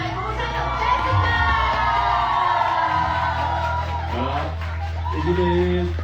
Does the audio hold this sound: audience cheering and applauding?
yes